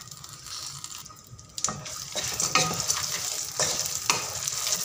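Mixed dry fruits such as pistachios, almonds and cashews sautéing in a pan, a close sizzle punctuated by several sharp scraping stirs of a spoon, growing louder after the first couple of seconds, with no talking.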